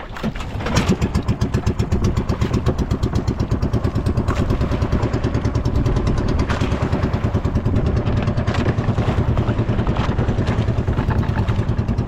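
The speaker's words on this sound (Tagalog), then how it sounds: "Paandar na tayo ng makina." A boat engine on a squid fishing trip runs with a steady, rapid chugging rhythm. It is loud, close and continuous, with no voices.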